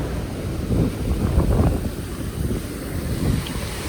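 Fast-flowing river water at Buscot near Lechlade-on-Thames churns in a loud, turbulent roar, buffeted by gusts of wind across the microphone, with no talk over it.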